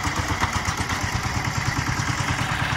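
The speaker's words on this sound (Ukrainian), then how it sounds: "мотоблок перевертається то на одну, то на другу, сажалка буде теж плавати" A walk-behind tractor engine runs steadily while planting potatoes in a garden plot, a close, loud, rapid rhythmic chugging with mechanical clatter throughout.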